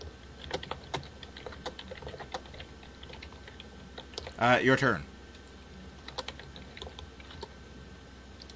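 Steady clicking of typing on a computer keyboard runs throughout at moderate level, briefly interrupted by a short spoken line partway through.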